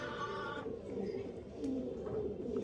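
Andhra pigeons kept as breeding pairs coo softly in a continuous low murmur, close and fairly quiet, with no voices over them.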